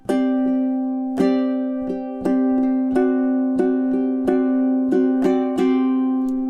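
Solo ukulele plays measures 29 to 31 of a piece, a series of clear plucked and strummed notes and chords ringing over a sustained low tone, close and unaccompanied.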